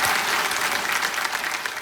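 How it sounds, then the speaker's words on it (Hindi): Studio audience on a Hindi quiz game show (Kaun Banega Crorepati) breaks into steady, dense applause that fills the whole moment without a pause. "तालियों के साथ अभिनंदन करते हैं हम आपका"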